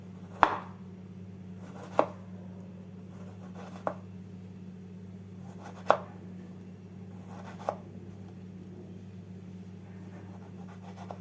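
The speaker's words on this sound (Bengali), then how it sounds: "ধুয়ে নেওয়া লাউয়ের টুকরোগুলোকে প্রথমে পাতলা পাতলা করে কেটে নিচ্ছি" A knife slices washed bottle gourd into thin pieces on a board, about six crisp, separate cuts spaced a second or two apart, close and quiet over a low steady hum.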